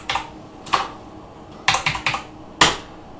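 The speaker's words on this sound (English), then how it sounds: "So let's type in another game" Typing on a computer keyboard while entering commands in a DOSBox MS-DOS emulator, a handful of crisp, close key clicks in small irregular clusters with quiet gaps between, no talk.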